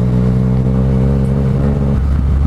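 A Yamaha MT-09 motorcycle engine revs loudly and steadily up close, a dense continuous roar with a slight dip near the end, no voices over it.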